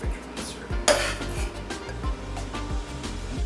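A utensil scoops Lao and Korean inspired fried rice made with gochujang and jeaw bong from a pan, with repeated metallic scrapes and clinks against the cookware, close up and with no one talking.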